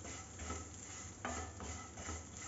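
Vermicelli being roasted in melted ghee for kheer, giving a soft, steady scraping stir with a faint sizzle and one brief clink of a utensil, low and continuous with no talking.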